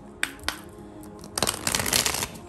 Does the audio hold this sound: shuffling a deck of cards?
yes